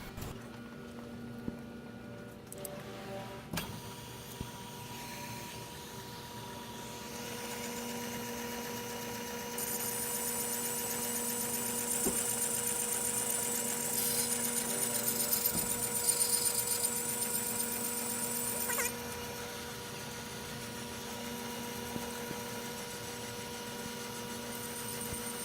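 A brake lathe turns and cuts a brake rotor, giving a steady mechanical hum with a constant tonal whine and a louder, brighter cutting hiss that rises in the middle of the run before it settles back.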